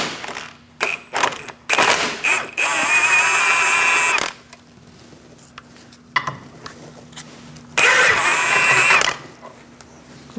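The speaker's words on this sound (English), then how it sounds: "13mm socket, and we're going to remove these two bolts holding the ball joint to the knuckle." A cordless power tool with a 13mm socket whines in two sustained bursts, separated by clicks and clanks, as it backs out the two bolts holding the front lower ball joint to the knuckle on a 2000-2006 Mini Cooper.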